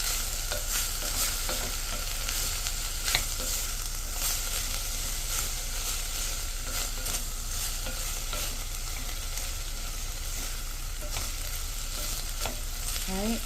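Vegetables frying and sizzling in a pot as the base for tomato soup, a steady close hiss with occasional stirring clinks throughout, no talking.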